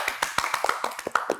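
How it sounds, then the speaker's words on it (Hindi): Scattered hand claps at a televised talk show award segment, a short burst of separate slaps spread unevenly over a second or so, fairly faint and close, with no talk over them. "सबके लिए तालियां होनी चाहिए।"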